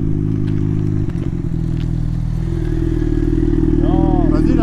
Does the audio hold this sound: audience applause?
no